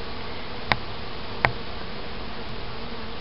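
Honey bees buzz in a dense, steady drone close by during a colony removal in Jackson, New York, with two sharp clicks cutting through the constant hum.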